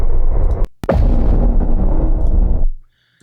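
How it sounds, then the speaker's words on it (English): A single heavily distorted boom from a sound-effects sample pack: a sharp crack, then a loud, saturated low rumble that sustains for about two seconds before cutting off abruptly into silence. "your kind of heavily distorted booms"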